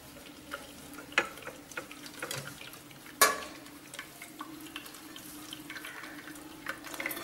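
Tap water running and splashing as freshly made paneer is rinsed in a kitchen sink while preparing rasgulla, a steady mid-level wash of water with a few sharper knocks and clatters and no talking.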